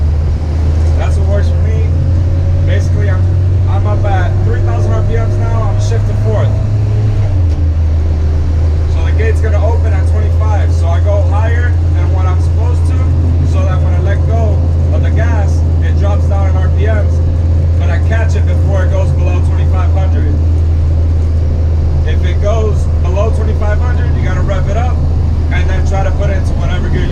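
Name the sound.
car engine revving while shifting gears without clutch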